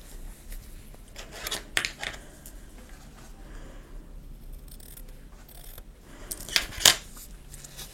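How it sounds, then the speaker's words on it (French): Scissors trimming excess fabric for a log cabin patchwork block, a few soft snips and rustles close by, with two sharper cuts standing out near the end; quiet otherwise. "Je coupe l'excédent de tissu."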